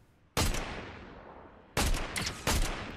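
Three loud gunshot bursts from Fortnite, each a sharp crack with a decaying echo, the first alone and the last two close together, with no talk over them.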